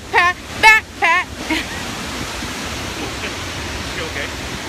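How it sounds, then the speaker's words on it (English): A waterfall pours in a steady, broad rushing hiss that continues unbroken, with a few short voice bursts at the start before the water sound carries on alone. "We made it to the waterfall."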